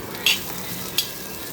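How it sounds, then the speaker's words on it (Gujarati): Onion kachumber being mixed in a pan with coriander-cumin powder and red chilli powder: a soft, steady sizzle broken by two sharp scrapes of a spoon against the pan. "તો હવે એને આપણે મિક્સ કરી દઈશું"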